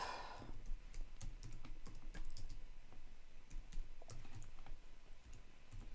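Computer keyboard typing in quick irregular bursts of close, crisp key clicks over a faint room hum, with no voices.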